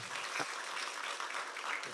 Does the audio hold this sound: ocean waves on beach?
no